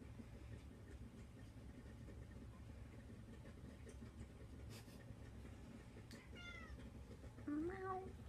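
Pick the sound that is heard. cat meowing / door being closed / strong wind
cat meowing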